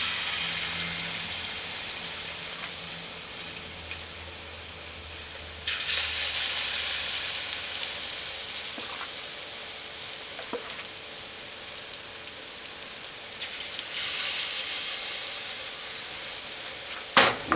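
Banana fritters sizzle in hot oil, a continuous crackling hiss that surges louder twice as batter is added or stirred, with faint clinks and no talking.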